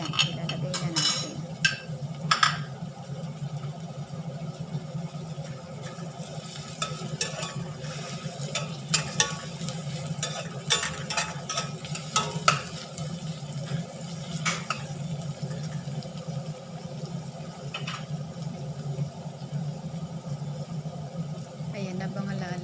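Sliced chili peppers going into a pan with tomatoes, stirred while frying: soft sizzle underneath repeated scraping and clinking of the spoon against the pan, while a voice talks over most of it.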